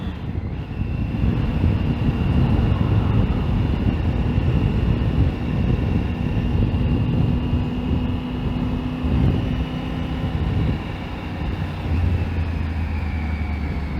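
Triumph Tiger 900 Rally Pro motorcycle engine droning steadily under heavy wind rush while riding, with a faint whine that shifts pitch near the end.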